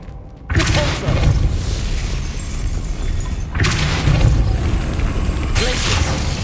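A Depulso spell cast in the video game Hogwarts Legacy, heard as a loud booming blast with a rumbling push. A second heavy burst follows partway through, and both ring inside a dense, layered game mix.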